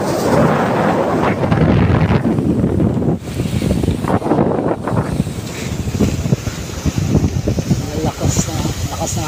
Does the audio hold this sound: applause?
no